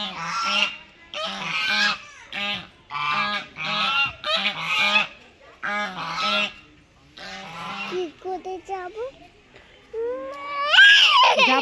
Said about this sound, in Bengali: দেখো রাজহাঁসগুলো দেখো কামড়ে নেবে